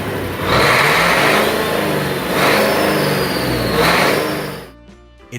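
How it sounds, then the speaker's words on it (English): A V8 diesel engine (VT903) revs repeatedly, its deep, rhythmic exhaust note rising and falling in three loud surges before cutting off, heard alone without talk. "a deep, rhythmic, almost muscular exhaust note that rose and fell with a cadence closer to a big block gas engine than a typical diesel"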